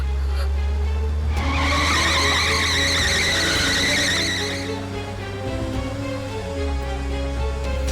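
A car skids with failed brakes, tires squealing loudly in a long, wavering screech that lasts several seconds over a steady low engine rumble, then fades.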